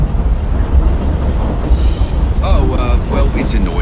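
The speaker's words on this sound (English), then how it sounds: "it's a noisy train" Rumbling, clattering noise of a moving train in the video game Assassin's Creed Syndicate, a steady loud low roar with rattles and brief metallic squeals, heard alone.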